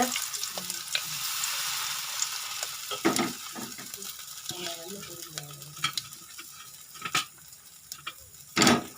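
Dried red chillies, mustard seeds, fenugreek and cumin sizzle and crackle in hot oil in a pressure cooker while making idli sambar, with a steady frying hiss broken by sharp pops and stirring clinks.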